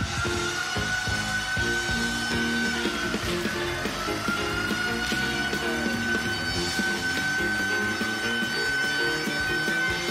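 A comedian's voice imitates a beeper going off on stage at an amateur comedy night, holding a steady, shrill electronic-style tone for about ten seconds with a slight dip in pitch partway through.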